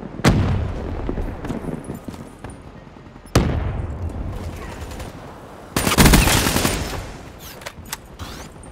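Grenade and gunfire in Call of Duty: Black Ops III: sharp loud blasts at the start, near three seconds and near six seconds, each followed by a decaying rumble, with scattered shots between.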